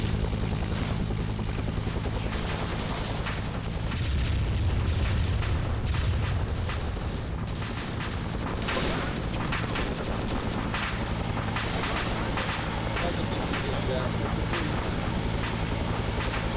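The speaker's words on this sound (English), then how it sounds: "rocket barrage" Rocket barrage striking villages in a strategy video game, a dense roar of overlapping explosions and rumbling booms that swell and churn continuously, loud and sustained throughout.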